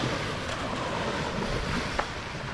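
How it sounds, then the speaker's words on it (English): Sea waves rolling onto a small island shore, a continuous loud wash of surf mixed with wind buffeting the microphone. "I'm gonna wait for the waves to calm down and see if I can find them"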